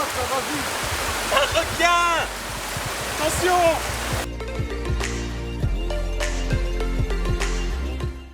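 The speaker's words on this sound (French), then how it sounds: "Au milieu de la cascade." Steady broadband rush of a waterfall in Vietnam, heard up close as people move through the middle of the cascade, with voices talking and calling over the continuous water noise.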